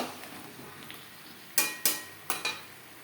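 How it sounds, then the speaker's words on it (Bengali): A spoon stirs vegetables with salt, turmeric and spices in a pan, giving four sharp scraping clinks near the end after a quiet stretch of faint rustling. "সবজির সাথে লবণ, হলুদ ও মশলা বেশ ভালো করে মিক্সড করে দেবো।"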